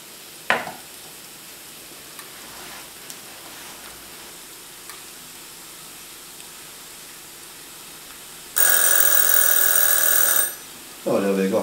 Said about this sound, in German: So, der Wecker hat wieder geklingelt.